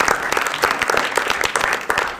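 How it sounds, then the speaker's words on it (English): Audience applause for the artists at the closing ceremony of an international ethnographic film festival, a dense burst of many hands clapping, loud and close, filling the entire moment. "Let's give some claps for"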